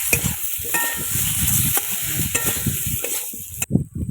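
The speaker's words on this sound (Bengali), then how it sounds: "এই আলু দিলাম, এখন সব কষানো হচ্ছে একসঙ্গে" Potatoes and fish sautéing together with chili powder in a pan, a loud close sizzle with rhythmic spatula scraping and stirring throughout, no speech.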